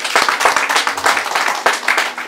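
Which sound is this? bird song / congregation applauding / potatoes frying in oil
congregation applauding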